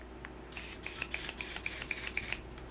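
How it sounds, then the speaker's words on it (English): A small pump face-mist sprayer fires about eight quick hissing spritzes in a steady rhythm, close and fairly soft. "let me spray the face."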